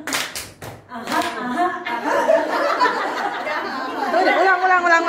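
A class of students claps a rhythmic scout-style clapping game, sharp hand claps in patterned bursts, with chatter and laughter running alongside.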